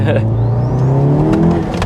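Manual MK7.5 VW Golf R with around 500hp accelerating hard, a loud, close engine roar rising in pitch, with someone talking over it.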